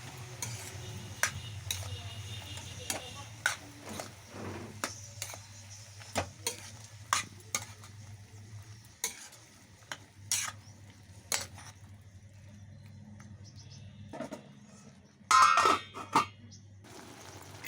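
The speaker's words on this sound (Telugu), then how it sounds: "ఉల్లికారం పచ్చికా పచ్చివాసన పోయే వరకు వేయించుకోవాలి" Ivy gourd curry with onion and chili powder frying in a pan on the stove, with a steady low sizzle under repeated sharp clicks and scrapes of a spoon stirring against the pan.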